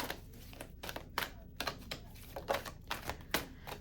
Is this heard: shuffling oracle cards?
yes